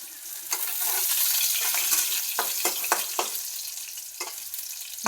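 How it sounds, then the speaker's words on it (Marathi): Garlic frying in a pan for a simple home-cooked vegetable dish, a steady soft sizzle with occasional louder crackles and stirring scrapes, close and fairly quiet with no talk. "लसूण जरा भाजू द्यायचा बरं का."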